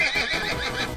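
A horse whinny sound effect rings out loud and close, a brief high neigh with a wavering, fluttering quality and faint hoof clip-clop underneath.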